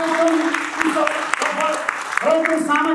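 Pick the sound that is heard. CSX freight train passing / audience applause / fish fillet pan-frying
audience applause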